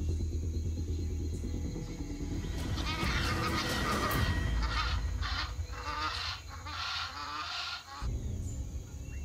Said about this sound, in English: I see the two geese.